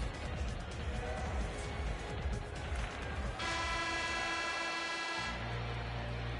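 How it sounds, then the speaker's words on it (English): A hockey arena horn blares to end the second period of a junior hockey game, a sustained steady tonal blast rising out of crowd and arena noise and holding for a couple of seconds. "Horn sounds, bringing the second period to an end."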